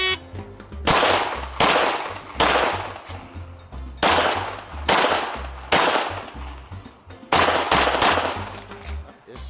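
Gunshots ring out at a local IDPA shooting match outdoors, loud, sharp reports fired singly and in quick pairs across several seconds, each with a trailing echo.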